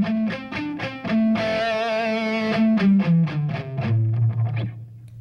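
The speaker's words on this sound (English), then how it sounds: "with the palm mute, you get a muffled tone. And with a lot of distortion, it makes a nice solid crunch with a real bassy tone to it" An electric guitar plays palm-muted notes through heavy distortion, producing a series of short, chunky, bassy chugs with a few sustained notes between them. The playing is close and clear, with no talking.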